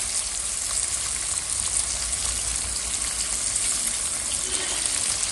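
Onions and curry leaves frying in hot oil for a pork fry, a steady broad sizzle with a hissing, watery texture, close and continuous without talk.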